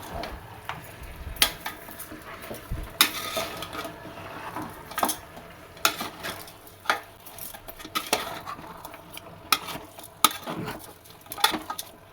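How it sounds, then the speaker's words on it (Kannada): Mutton masala for mutton sambar being mixed in a large pot gripped with cloths, with repeated sharp metallic scrapes and knocks at an uneven rhythm over a low background hiss, no talking. "ಅದಕ್ಕೆ ಆ ಕಡೆ ಈ ಕಡೆ ಒಂದೊಂದು ಬಟ್ಟೆ ಇಟ್ಕೊಂಡು ಚೆನ್ನಾಗಿ ಈ ಥರ ಮಿಕ್ಸ್ ಮಾಡ್ಕೊತಾ ಇದ್ದೀನಿ"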